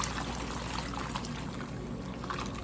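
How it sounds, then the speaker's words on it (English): Meat juice poured from a pan into a pot of washed rice with a little water, a steady close liquid pour and trickle running throughout without talk. "Now we're going to take all of this juice and pour it in over"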